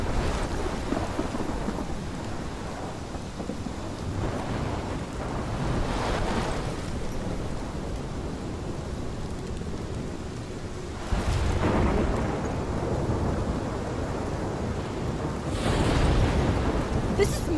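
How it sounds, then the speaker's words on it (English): Rolling thunder crashes over steady heavy rain during a storm in the video game Life is Strange, with loud surges of thunder swelling and fading several times against the constant downpour. "This is my storm."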